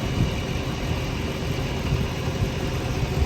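A tractor engine idles steadily nearby during rock digging with a backhoe, a constant low mechanical rumble without talk.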